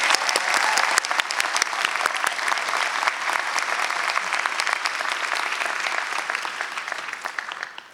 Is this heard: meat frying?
no